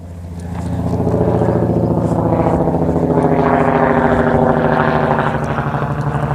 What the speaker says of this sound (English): truck noises are definitely a lot louder